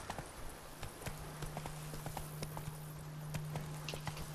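Horse hooves clip-clop in steady rhythm as a mount crosses a narrow bridge in The Witcher 3: Wild Hunt, Blood and Wine, moderately close with a low ambient hum beneath.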